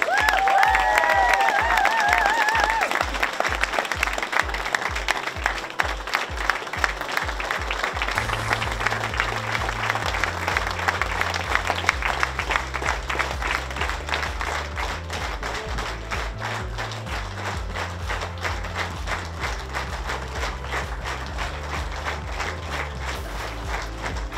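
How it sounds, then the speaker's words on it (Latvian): Audience applause fills a hall at a sports awards ceremony, dense sustained clapping that settles into a steadier rhythmic beat with music-like tones underneath. "Paldies par aplausiem"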